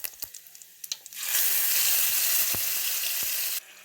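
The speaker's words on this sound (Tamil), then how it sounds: "இந்த சமயத்தில் நம்ம அரைச்ச விழுதை கொட்டிப்போம்." Ground spinach paste hits hot oil with garlic and cumin in a pan, bursting into a loud, steady sizzle that runs about two seconds before cutting off, preceded by a few light clinks.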